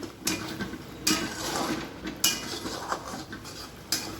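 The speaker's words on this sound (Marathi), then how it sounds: "आता हा मसाला आपल्याला चांगला 1-2 मिनटं परतून घ्यायचा आहे" Masala being sautéed in a pan for a Nashik-style patodi vegetable dish: a metal spatula scrapes and clanks against the pan every second or so, with a soft frying hiss underneath, up close.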